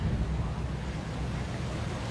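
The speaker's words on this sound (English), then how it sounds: "Just a little bit windy today." Strong ocean wind buffets the microphone in steady, loud gusts along a Waikiki street near the beach, a constant broadband roar with faint surf underneath and no clear voices.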